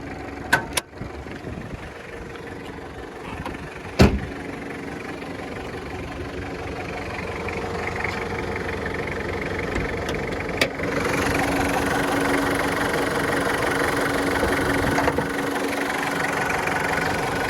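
A 1992 Toyota Hilux Surf with a 2.4 turbo diesel idles steadily, a continuous mid-low rumble with a few sharp clicks and knocks early on, growing slightly louder after the first ten seconds.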